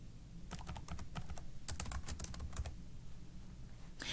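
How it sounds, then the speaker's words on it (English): Computer keyboard typing as applicant information is entered into a form, quick irregular key clicks in short bursts, close and clear with no talk. "start by typing in all of the applicant's information"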